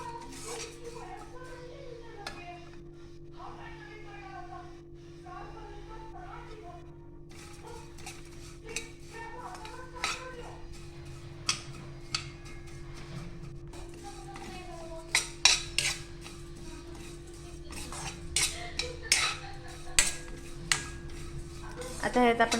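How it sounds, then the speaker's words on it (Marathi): Vermicelli roasts in a pan for sweet kheer while a spoon stirs and scrapes it, giving repeated metallic clinks and scrapes over a steady hum, with a voice talking in the background. "इथे आपण आता शेवई मस्त की भाजून घेते."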